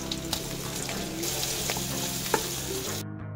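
Onion sautés with garlic and longganisa for Bicol pancit, a loud, close, continuous sizzle with a few stirring clicks, cutting off abruptly at the end.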